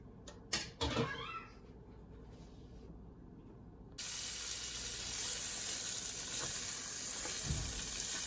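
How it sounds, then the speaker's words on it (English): Green beans dropped into hot olive oil in a pan, a brief clatter followed by a steady, loud hiss of sizzling frying that carries on alone. "Once your olive oil is heated thoroughly, you're going to add in your green beans"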